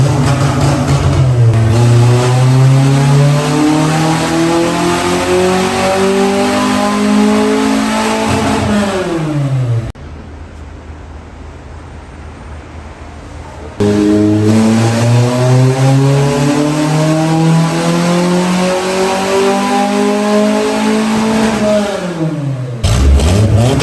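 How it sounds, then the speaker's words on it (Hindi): A Suzuki Khyber fitted with a B18C engine revs hard on a dyno, climbing steadily to a high wail, dropping to a quieter idle-like gap, then sweeping up again in a second loud pull. "अब गाड़ी का डायनो रन मार के चेक करते हैं कि वीटेक चला है कि कोई"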